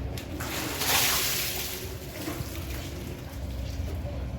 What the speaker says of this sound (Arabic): انا بحب اطروع الميه كده